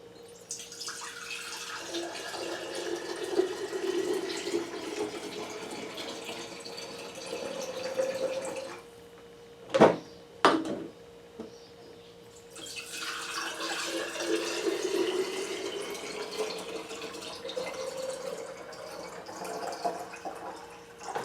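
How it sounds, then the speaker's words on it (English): Raspberry moonshine poured through a funnel into mason jars: a steady liquid trickle fills each jar with rising pitch, broken midway by a pause and a couple of glassy clinks before pouring resumes; no talking. "we'll fill up our mason jars"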